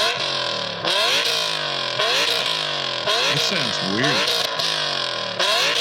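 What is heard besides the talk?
car exhaust revving, Insane F1 exhaust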